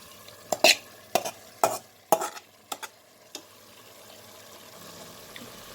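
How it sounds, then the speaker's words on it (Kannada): A spoon stirs kidney and liver biryani masala frying with fresh mint and coriander in a pot, giving about eight sharp scraping strokes in an uneven rhythm, then a quieter stretch with a soft sizzle underneath. "ಈಗ ಕೊತ್ತಂಬರಿ ಪುದೀನ 2 ಆ್ಯಡ್ ಮಾಡ್ತಾಯಿದ್ದೀನಿ"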